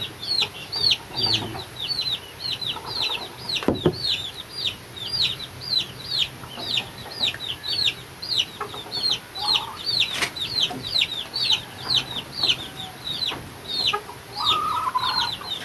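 Three-month-old chicks peep and cluck nonstop in a busy, overlapping chorus of high, rapid chirps, close by with an occasional soft bump beneath.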